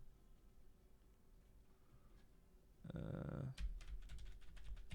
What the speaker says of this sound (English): My only solution is to mash my keyboard a lot and hopefully fix it.